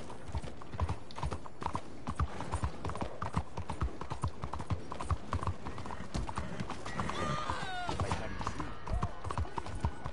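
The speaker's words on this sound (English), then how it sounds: "That horse is tiny!" Horse hooves clip-clop in a steady, quick rhythm throughout a PS4 video game, with a voice talking over the footsteps and an occasional whinny-like sound.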